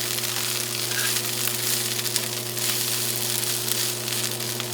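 Kale and garlic frying in a pan, a continuous close, steady sizzle with a faint low hum beneath it and no talking.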